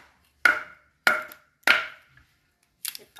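Firewood being split by hand in a Lao village, three crisp, evenly spaced chops followed by a fainter double knock, each strike loud and close with a short woody ring.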